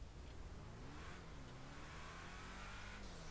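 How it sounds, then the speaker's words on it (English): Car engine idling in GTA 5 Online, a steady low droning hum with faint tonal wavering, continuous and fairly quiet throughout, no talk. "The idling does sound very nice"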